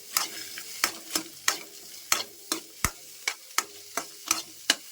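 Onions fry in a pan while a spoon strikes and scrapes it in a steady rhythm, roughly twelve distinct clanks over a low sizzle, close and clear with no one speaking.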